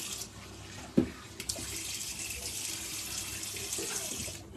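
Tap water running into a sink as an aluminium baking tray is rinsed and shaken in a home kitchen, a steady close hiss broken by a sharp clatter and a couple of small knocks.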